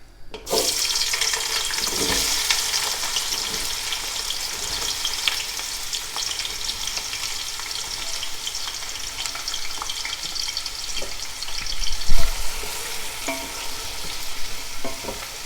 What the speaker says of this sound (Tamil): கட் பண்ணி வச்சுருக்கிற வெங்காயத்தை போடுறேன்